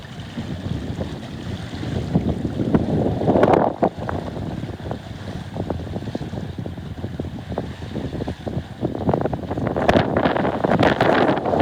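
Steady wind rushes over a sailboat at sea on a calm, flat day, a constant close roar with buffeting gusts and faint water sounds, and no talking.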